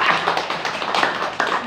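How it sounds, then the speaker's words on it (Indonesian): A church congregation clapping their hands in praise to God, with dense, overlapping claps that swell in bursts and carry on through the moment without speech. "Tepuk tangan dulu buat Tuhan."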